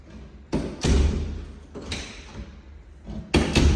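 A door in an older house in Sarasota is opened and closed, with several loud close thumps and knocks spaced through the clip.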